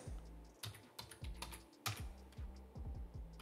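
Close, quiet typing on a computer keyboard, an uneven run of key clacks and taps with brief pauses between bursts, no talking.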